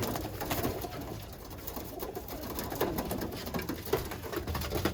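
Young Birmingham Roller pigeons eating: soft pecking, patter and low coos from several birds close by, steady and fairly quiet throughout, with no talk.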